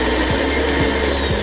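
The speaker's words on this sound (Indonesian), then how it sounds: "Untuk suaranya terdengar ada suara kipas yang berbunyi." The vacuum fan of an Allnew Gen 3 DTF printer runs with a loud, steady whir, and faint soft pulses recur about every half second.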